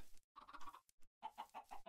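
Chicken clucking in a Minecraft-style video game, two quick bursts of clipped, rhythmic game-sound clucks, close and clear with no voices.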